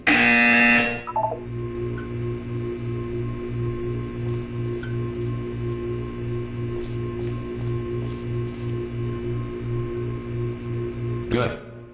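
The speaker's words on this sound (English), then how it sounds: "You will hear a buzzer." A loud, steady pulsing buzzer from the Portal 2 video game repeats in an even rhythm for about ten seconds, ending with a brief louder tone at the close.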